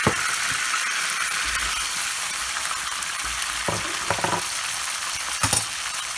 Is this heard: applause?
no